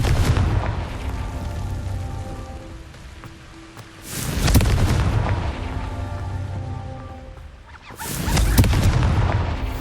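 Blasting spell explosions in Hogwarts Legacy, with two loud booming bursts about four seconds apart, each rolling away under a rain-like crackle and a faint musical background.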